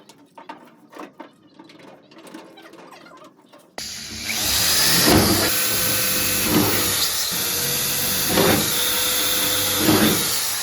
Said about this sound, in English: Let's begin by making the holes where we need to put the nuts and bolts.